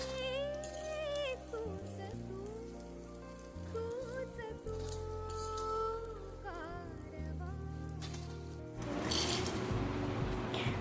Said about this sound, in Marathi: डिंक ही थोड्या थोड्या प्रमाणात तळून घ्या